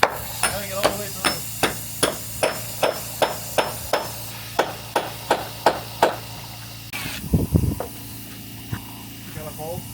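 Steady hammer blows drive nails into deck wood about twice a second, sharp and close, then stop; a short burst of clattering follows.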